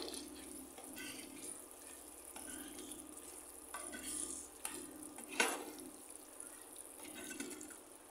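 Chicken sizzles and fries steadily in a pan for a chicken curry with satkora citrus, giving a continuous close hiss with one sharper crackle partway through.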